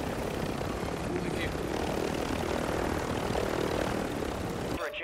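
A helicopter in the video game Warzone 3 droning steadily with a dense rotor and engine roar throughout, cutting out just before the end, with a voice speaking over it.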